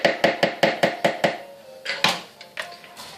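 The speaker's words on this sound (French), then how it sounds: "je vais hacher l'oignon" A knife chopping an onion on a board, seven brisk evenly spaced knocks followed by a few slower, more scattered cuts, close and clear with no talk.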